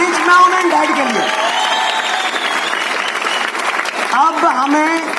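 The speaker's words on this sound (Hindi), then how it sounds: "गिव ए बिग एंड जोरदार तालियां" An audience at a DXN business success-story event in Bihar applauds loudly and steadily for about five seconds, while a voice talks over the clapping.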